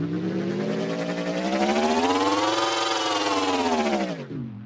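A synthesized robot engine effect built in FMOD, a loud continuous whirring drone with layered harmonics that rise in pitch, hold, then fall away as if revving up and winding down, ending with a brief drop.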